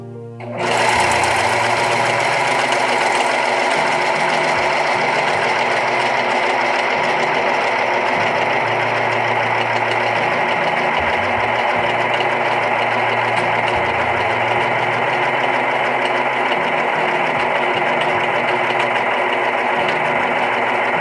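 A Brother 2104D overlock machine runs continuously on silky polyester fabric, a loud, steady mechanical hum with fast, even stitching rhythm from start to finish.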